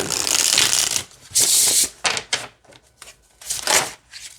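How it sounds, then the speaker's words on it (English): Tarot cards in a fresh deck of sturdy cardstock are shuffled in several quick riffling bursts with short pauses between them, close and fairly loud, with no talking. "It's very easy to shuffle."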